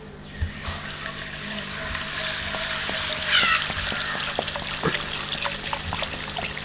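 Coca-Cola poured into a hot pan, giving a steady fizzing, trickling hiss with scattered crackles and pops, close and moderately quiet throughout.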